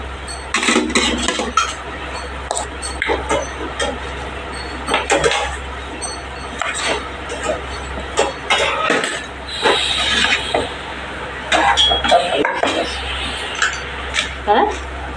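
Dishes and steel utensils clatter and clink up close in a home kitchen while roti is served, irregular clanks and scrapes over a low steady hum, with someone talking at times between them.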